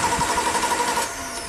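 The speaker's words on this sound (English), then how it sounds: "I just want to see if the starter cranks well" A Chevy starter motor cranks the engine in a fast, rhythmic whirring churn for about a second before it stops, close and fairly loud, with no voices.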